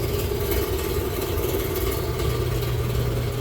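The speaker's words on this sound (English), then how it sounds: "So this is the sound of it officially cutting now." A rock saw cutting rock makes a steady, even, broadband whirring drone that stays fairly quiet and constant throughout. No speech is heard.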